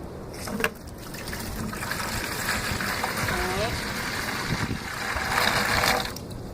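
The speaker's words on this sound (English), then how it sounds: "put about an inch of water in the bottom of the bucket" Water gushes steadily into a bucket, filling about an inch of the bottom, a continuous close splashing rush that runs for several seconds and swells slightly near the end.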